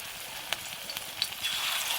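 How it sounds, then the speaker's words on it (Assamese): Banana flower pakora batter frying in hot oil in a wok, a close, continuous sizzle and crackle with a few sharp pops and spits standing out over the bubbling. "কেৰাহীখনত তেল গৰম কৰি ল'লোঁ এতিয়া মই এইখিনি দি দিম ইয়াত"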